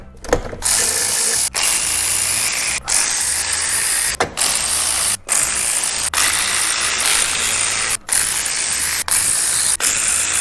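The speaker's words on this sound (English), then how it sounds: "I'm just gonna go through and start taking off them pan bolts" A ratchet works loose the oil pan bolts on a 2010 Pontiac G6 with a 3.5L engine, a loud, steady clicking run broken by brief pauses as each bolt is turned, with no talking.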